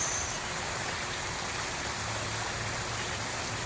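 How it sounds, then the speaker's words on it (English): Steady broadband rush of water flowing along a park stream, even and continuous at moderate level with no talk, like soft rain or a small cascade. "listening to the birds, the sounds of the water."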